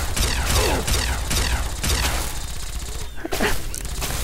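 Gunfire in the Fallout 3 video game, a series of sharp repeated shots at regular intervals amid mechanical combat effects, loud and near, with no talk.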